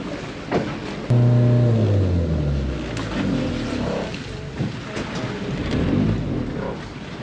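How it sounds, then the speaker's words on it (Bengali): A tour boat near Hidden Beach in El Nido, Philippines, slows with a loud engine rumble that drops in pitch and eases off, leaving a softer idle over water and wind. "এখন আমাদের বোটটা থামছে।"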